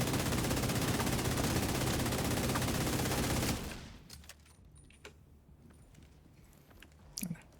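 Light machine gun in a video game firing a dense, loud sustained burst for several seconds that cuts off abruptly, followed by quieter clicks and clatter from handling the weapon.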